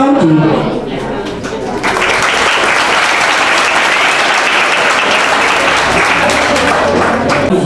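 An audience at a school presentation bursts into loud, dense applause that rises after a brief quieter start and holds steady to the end, many hands clapping close by.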